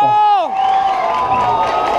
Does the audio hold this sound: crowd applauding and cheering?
yes